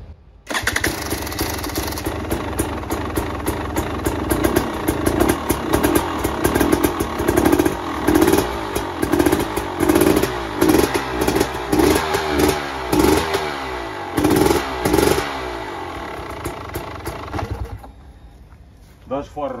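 A KTM motorcycle engine starts and settles into a loud, close, steady clattering idle with small throttle blips, then cuts off near the end as people talk under it.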